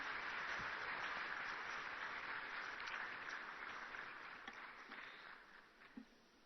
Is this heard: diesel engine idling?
no